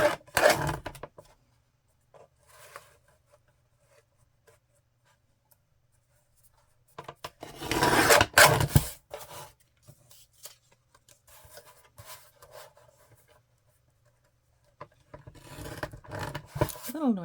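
Embossed paper being torn along a deckle edge ruler, in several rough ripping and rasping bursts separated by quiet pauses, close and crisp with no talking.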